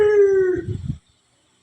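A dog in the Philippines howls with a long, gradually falling wail for about half a second, followed by a few short rough yelps, then quiet apart from a faint thump at the end.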